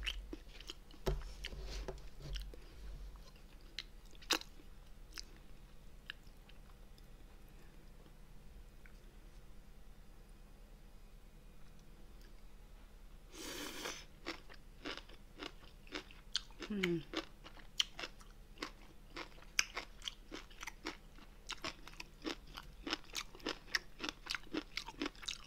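Sea squirt (mideodeok) from braised monkfish is eaten close to the mic, with soft repeated crunches and wet chewing in an uneven rhythm. Quiet overall, with a brief louder burst partway through.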